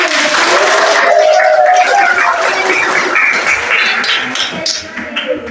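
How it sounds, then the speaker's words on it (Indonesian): Classroom students clapping together for a correct answer, a dense burst of applause close by that thins out toward the end. "Berikan tepukan."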